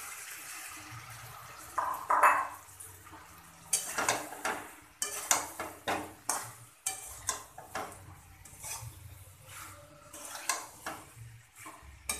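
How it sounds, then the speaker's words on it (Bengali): Fried cauliflower pieces tipped into a pan of potatoes and spices for a bhetki fish curry, then stirred: repeated scraping and clattering strokes of a spoon against the pan, fairly close, with a soft sizzle underneath and no talk. "এবার দিয়ে দেবো আমি ভাজা ফুলকপিগুলো।"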